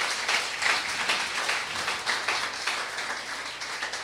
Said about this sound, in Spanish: Ahora dense un aplauso ustedes,